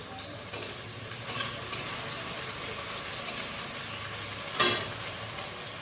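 Onion fries in a pan of hot oil with a steady, dense sizzle, broken by a few occasional scrapes and taps from stirring.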